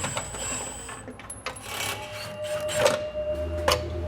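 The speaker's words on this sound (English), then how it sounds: "We'll use a 13mm socket in order to do so." Ratcheting 13mm socket wrench on a bolt of the heat shield of a 2018 truck, rapid clicking bursts and metallic clinks close up, with brief pauses between turns.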